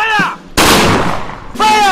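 Artillery gunfire in a military setting, one sudden loud blast with a rumbling decay, framed by shouted commands before and after.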